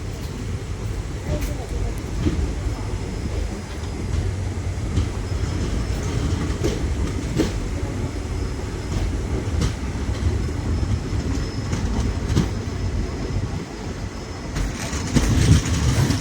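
Passenger train running from Guwahati to New Bongaigaon at night, a continuous low rumble with rhythmic clicking of wheels over rail joints, heard from inside the carriage, steady throughout.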